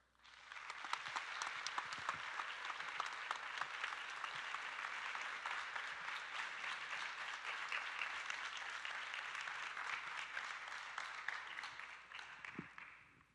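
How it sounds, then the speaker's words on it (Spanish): A festival audience gives sustained, dense applause for editor Roberto Perpignani at a film event, an even roar of many clapping hands lasting over ten seconds before it tapers off, heard from a distance. "les pido un aplauso"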